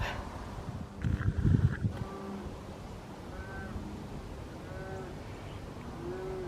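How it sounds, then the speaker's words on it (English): A cow moos once, loud and close, in a sunny garden. A brief low bellow sounds out in the open air, and crows caw faintly in the background afterward. "I hear a cow not too far away."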